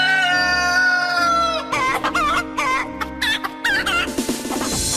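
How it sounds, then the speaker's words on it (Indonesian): The neighbour's chickens cluck repeatedly in close, choppy bursts, with a rooster crow and louder squawks near the end, loud and without talk. "Enggak, tadi suara ayam."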